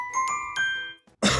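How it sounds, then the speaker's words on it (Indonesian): A single short, harsh cough bursts out near the end, close and loud, after a few bright chiming tones, in a health advertisement about herbal cough relief. "Batuk."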